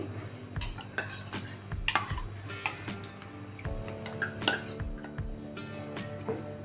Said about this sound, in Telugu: ఈ కార్న్ఫ్లవర్ వేసుకున్న తర్వాత సిమ్లో పెట్టుకుని ఇలా కలుపుకోవాలి